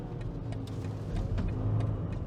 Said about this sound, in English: Force the downshift.